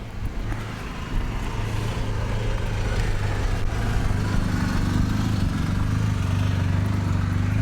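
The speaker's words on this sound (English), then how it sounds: "Bunch of motorcycles out here." Steady engine rumble of a group of motorcycles at Cathedral Canyon, growing slightly louder after the first second and holding at a constant drone.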